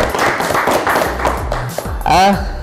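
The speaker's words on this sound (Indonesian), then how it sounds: "tepuk tangan" Students in an Indonesian classroom applaud at the end of a lesson on digital image rendering, a short burst of hand clapping mixed with voices and chatter.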